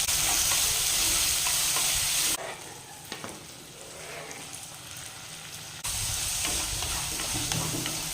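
A loud, steady sizzle of onions frying in a hot pan with curry leaves, briefly dropping quieter midway while they are stirred, then sizzling hard again.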